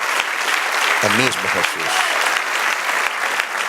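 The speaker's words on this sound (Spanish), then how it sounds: "Dar un aplauso al Señor" A congregation at a church service applauds steadily throughout, a dense wash of clapping with a voice briefly speaking over it midway.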